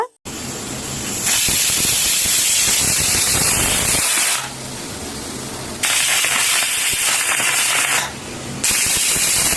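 A pressure cooker whistle blasts in loud, sustained hissing bursts of steam, cutting off briefly between releases.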